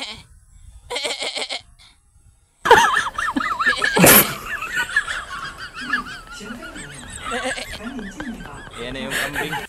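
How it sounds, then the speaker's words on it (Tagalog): A goat on a farm bleats several times in wavering calls, close and fairly loud, with people talking around it and a sharp noise partway through. "Yan na yung kambing."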